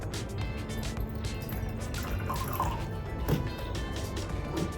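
Water poured into a cooking pot, a steady close splashing and dribbling fill that runs for several seconds with faint background noise and no talk.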